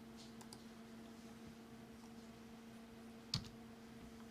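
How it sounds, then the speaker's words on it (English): A computer keyboard's G key gets a single sharp tap that stands out from a quiet room hum. Fainter clicks come earlier, and no one speaks. "we tap on the G key on our keyboard"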